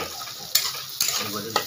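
Onions frying in a pan for a country-chicken curry give a soft, steady sizzle, broken by three sharp scrapes of a stirring spoon spaced about half a second apart.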